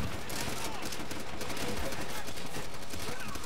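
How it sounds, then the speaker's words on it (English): Gunfire from the World War II shooter Call of Duty: World at War, a dense, continuous barrage of shots and explosions filling the scene at steady loudness with no talk. "I shot a gun."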